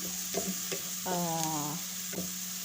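Chopped onions sautéing in a hot pan for a shrimp and fresh tomato sauce, a soft steady sizzle with a few light utensil scrapes and a brief tonal squeak midway.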